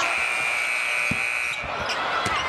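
A dense arena crowd roars steadily throughout, with a faint whistle-like tone and a few thuds of a bouncing ball beneath the din.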